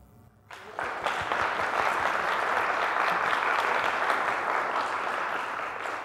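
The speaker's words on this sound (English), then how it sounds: "I would like you to give a round of applause right now." An audience breaks into a round of applause at a speakers' event, the clapping starting sharply after a brief quiet moment and holding as a dense, steady wash of many hands.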